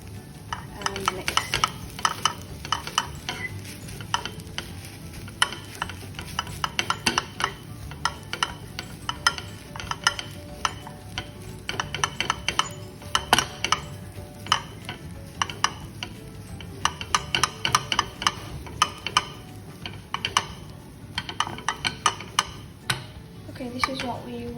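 Stuffing of onion, garlic, breadcrumbs, herbs, salt and seasoning being mixed in a bowl for a roast chicken: steady scraping and clicking strokes, close and fairly busy, with some talk.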